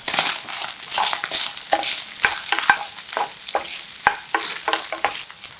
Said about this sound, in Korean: 색깔이 노릇하게 나면 마늘을 넣고 한번 섞어주고